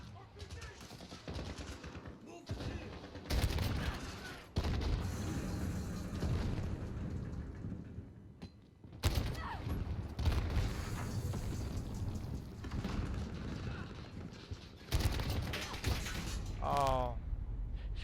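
Rapid automatic AK-47 fire in a Call of Duty Modern Warfare multiplayer match, bursts of sharp shots repeating loudly across the clip with game effects and other weapon noise around them.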